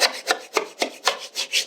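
A flat blade scraper scrapes heavy relief off a bedroom ceiling, making seven evenly spaced rasping strokes in a steady rhythm, close and fairly quiet, with no talk.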